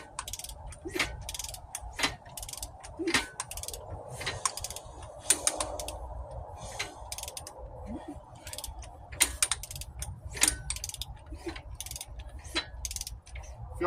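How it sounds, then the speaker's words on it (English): A Mopar 400 big block engine is turned over by hand, giving irregular mechanical clicks and ratcheting taps at close range, fairly quiet, with faint birdsong in the background. "If y'all wondering why I'm turning it so much, it's because I want to see all the valves open and close."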